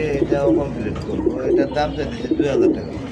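Pigeons coo at a busy pigeon market, with soft, repeated throaty calls mixed into nearby voices of people talking throughout.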